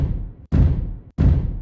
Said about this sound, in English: So for this loop, I found a stomp and it sounds like this.